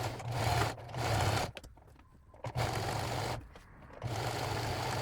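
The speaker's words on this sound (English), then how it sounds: "And then I'll zigzag over the edge here." A sewing machine runs a zigzag stitch over the edge of fabric in three steady whirring bursts, with short quiet pauses between them. The sound is close and fairly soft.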